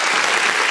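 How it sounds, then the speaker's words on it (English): An audience applauding a dad, dense steady clapping from many hands filling the short moment at full loudness. "Can we drop some applause on this dad?"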